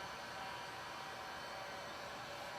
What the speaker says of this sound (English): going to show you how I distress using the sander